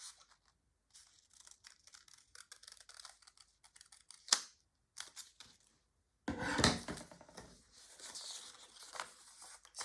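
Scissors snip through a paper doll-shirt pattern piece, giving short bursts of crisp cutting and rustling paper, with a louder stretch of paper handling near the end; close and fairly quiet, with no talking.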